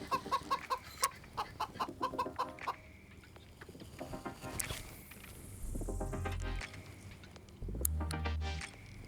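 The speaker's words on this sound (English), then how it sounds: "What an annoying chicken." A chicken clucks repeatedly and loudly near a carp-fishing lakeside, in a quick run of clucks over the first couple of seconds before quieter background noise and low rumbles take over.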